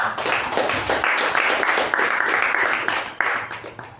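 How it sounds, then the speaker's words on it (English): Toastmasters club meeting audience applauding steadily, a dense wash of many hands clapping throughout at moderate volume, with a slight surge near the end. "Next, I would like a round of applause to Toastmasters."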